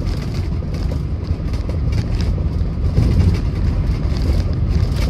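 Air-cooled engine of a 1965 VW Type 2 Splitscreen van running steadily, a close, continuous rough rumble with a rattling clatter, loud and unbroken.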